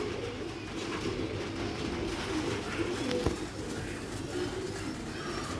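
Sialkoti rooftop pigeons cooing softly amid low background hum, a faint, steady murmur of calls with one brief sharp knock partway through.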